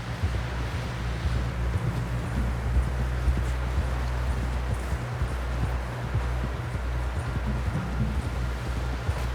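Horse hooves clip-clopping steadily in the Red Dead Redemption 2 video game, a continuous rhythmic trot at close range over a windy outdoor background.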